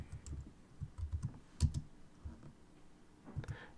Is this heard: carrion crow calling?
no